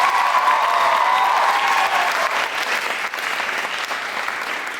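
A high school audience at a hypnosis show during a winter dance event bursts into loud, sustained applause and cheering that fills the room, gradually easing off after a few seconds.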